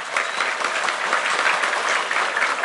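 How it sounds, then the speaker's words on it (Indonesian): A large audience claps steadily together, a dense, loud wash of applause in honour of NU, the Islamic organisation, holding evenly for a few seconds with no voices over it. "Tepuk tangan untuk NU."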